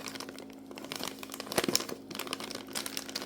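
A small plastic bag of ice cream starter crinkles and rustles as it is handled, a few seconds of close crackling with one sharper crunch midway.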